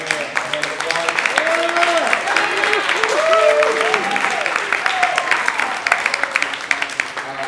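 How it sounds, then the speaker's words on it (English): A crowd applauds at the 2016 Miami Bitcoin Hackathon presentations, with dense, steady clapping filling the room and scattered cheers and whoops rising above it for the whole stretch. "Let's start off by giving a hand of applause"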